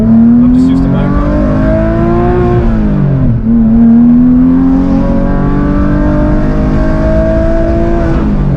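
A Porsche 911 GT3 Touring engine revs steadily on the move, its pitch climbing, dipping briefly around a gear change, then rising again, loud and close from inside the car.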